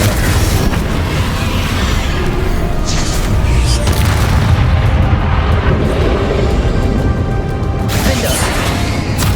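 The Confringo blasting spell explodes in the game Hogwarts Legacy, producing loud, sustained rumbling blasts with fresh bursts erupting over a continuous roar of combat noise.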